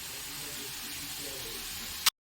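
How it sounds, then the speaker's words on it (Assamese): Leafy greens fry in a hot pan in a home kitchen, giving a steady soft hiss and sizzle throughout, ending with a brief sharp clatter. "এইফালে এয়া শাক ভাজি হৈ গ'ল"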